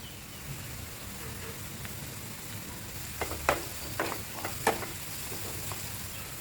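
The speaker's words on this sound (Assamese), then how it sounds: "তেল গৰম হোৱাৰ পিছত ইয়াতে দিম মই এতিয়া পিয়াজ," Onion, ginger and garlic sizzle in hot refined oil in a frying pan, a soft, steady crackle that builds into a few sharper spatters and scrapes toward the end, quiet and close, with no voices.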